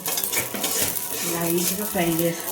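Whole spices tossed into hot oil in a pan for a boti fry, with a steady sizzle, scraping and clinking of a utensil stirring against metal close by. No one speaks.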